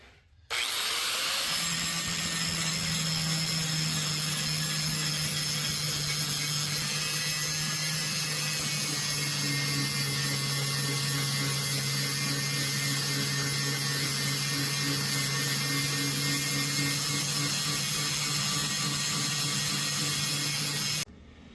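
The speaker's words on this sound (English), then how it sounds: "just taking the grinder and removing that little bit on top" An angle grinder runs steadily and loudly, grinding the brazed tops off small scrap-metal dominoes held in a fixture: a sustained high whine with a low motor hum throughout, starting and stopping cleanly at each end.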